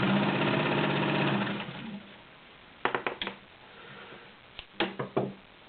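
A vintage 1960s Kenmore model 1301 sewing machine stitches delicate chiffon with a steady whirring hum that stops after about two seconds, followed by a few sharp mechanical clicks and clunks, close up with no talking.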